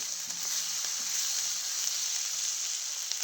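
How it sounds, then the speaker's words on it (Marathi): Green chillies sauté in a pan with a continuous bright, hissing sizzle, steady and even throughout, close up with no one talking. "थोड्या वेळ चांगली मिरची आधी परतून घेतली. मिरची परतली चांगली."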